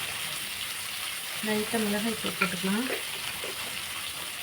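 Sliced onions sauté in a hot pan with a little turmeric and chili powder, giving a low continuous sizzle with faint scraping as they are stirred, while a voice talks briefly over the cooking.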